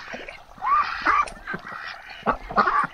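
Black Cayuga ducks call repeatedly at close range in a farmyard, loud honking quacks coming in uneven bursts across the whole stretch with no talking.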